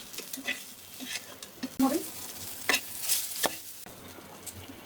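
Food frying in a pan for a Bangladeshi bhorta, an ongoing sizzle broken by stirring clatter and scrapes, close up, with faint voices in the background.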